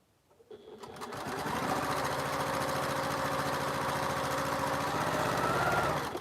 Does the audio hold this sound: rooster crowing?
no